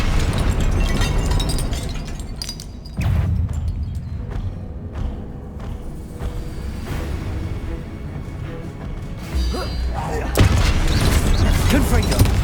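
Confringo blast spells go off in the Hogwarts Legacy video game, loud booming bursts and thuds over a dense rumbling game soundtrack, with a voice calling out during the action.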